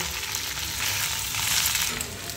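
A pohe-based mixture frying and being stirred in a pan, a loud, dense, continuous sizzle close up with soft stirring scrapes beneath it.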